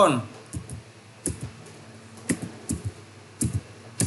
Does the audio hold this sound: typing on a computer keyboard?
yes